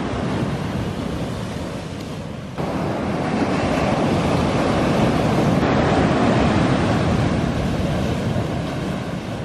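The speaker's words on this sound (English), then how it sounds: "the ocean is so strong that we're on constant alert that the surf is gonna come up over this ridge here" Rough Caribbean surf at St. John in the US Virgin Islands pounds the shore in a steady, loud broadband roar, with wind buffeting the microphone and no pause between breaking waves.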